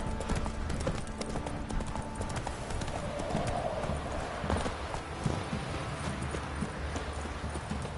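Steady clip-clop of Roach, Geralt's horse in The Witcher 3, trotting continuously at close range over ambient game sounds, with no break in the rhythm.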